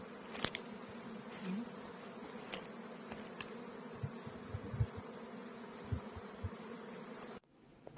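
Large caught honeybee swarm buzzing around a beehive, a dense, continuous drone close by with occasional louder passes of single bees, ending in an abrupt cut near the end.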